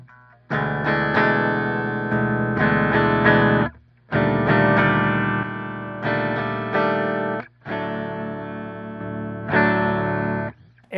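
An LTD Phoenix-1000 Deluxe electric guitar played through its neck pickup with effects, loud chords and riffs in sustained phrases broken by short pauses, alone without talk.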